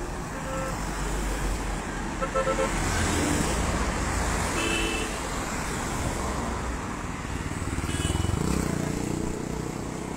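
Steady traffic on the Kalka–Shimla highway, with a car driving past and engine and tyre noise swelling near the end, under a constant road hum without a clear voice.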